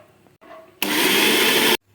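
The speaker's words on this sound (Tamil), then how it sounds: "சர்க்கரையை மிக்சியில் போட்டு பவுட்ரு பண்ணி எடுத்துக்குவோம்" A kitchen mixer grinder whirs loudly for about a second while powdering sugar, a steady dense grinding burst that starts and stops abruptly, with faint room sounds before it.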